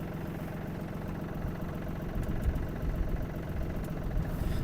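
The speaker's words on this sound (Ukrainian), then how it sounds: "Дамо двигуну трішки прогрітися" A Yanmar AF-26 mini tractor's diesel engine idles while warming up, a steady low, even chugging rumble close by that runs without a pause and no voices.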